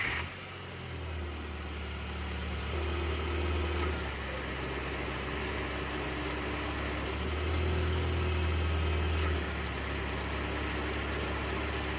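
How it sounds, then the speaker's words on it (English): A car engine running at a steady idle during magnetic clutch compressor repair work, a continuous low rumble heard close up with slight swells in revs and no talking. "Let's start the engine."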